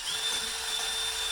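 Power drill whirring steadily into a boat trailer during a bunk board guide install, a short continuous high-pitched whine at moderate distance with no talking.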